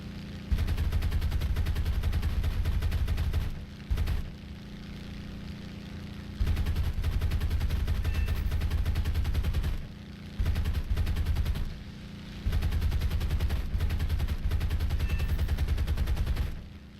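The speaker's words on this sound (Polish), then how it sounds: "Tnie się po prostu z karabinów." P-47D Thunderbolt machine guns firing in War Thunder, several long sustained bursts of rapid, loud gunfire separated by brief pauses, over a continuous aircraft engine drone.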